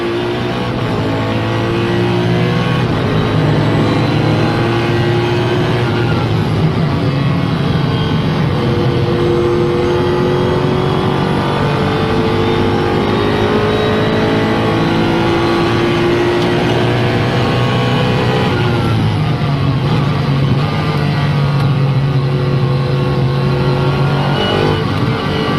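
A race car engine howls loud and close through the 2011 24 Hours of Spa at the Spa circuit, revving hard and climbing through gears after a downshift, continuous and alone without talk.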